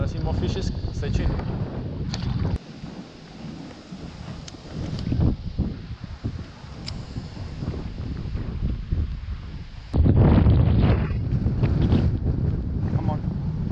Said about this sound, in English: So yeah, we've been catching a lot of fish, but the wind is terrible.